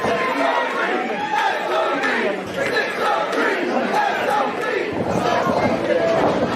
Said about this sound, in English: He is the SOB of the 603 as the fans cheer him on.